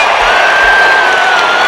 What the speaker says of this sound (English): Scottie Pippen checks into a nice round of applause